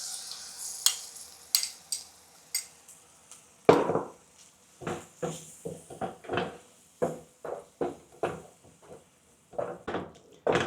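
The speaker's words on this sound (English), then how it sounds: "Continue stir fry the meat until it is cooked, until it is slightly brown." Char siu pork filling for dim sum BBQ pork puffs being stir fried in a pan, with a run of sharp spatula scrapes and clatters over a low sizzle, steady and close.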